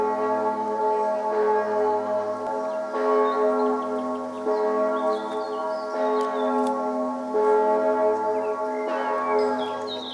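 Church bells ring across a historic botanic garden. Sustained, resonant tolling carries throughout, with fresh strikes every second or so over a steady hum of ringing overtones.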